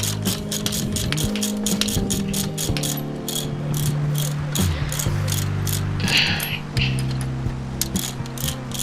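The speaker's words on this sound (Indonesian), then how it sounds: "Kita kencangkan bautnya menggunakan kunci shock ya." An impact-style shock wrench tightening a shock absorber bolt in a motorcycle workshop, heard as repeated rapid hammering bursts over a steady mechanical hum, fairly loud and close, with no talking.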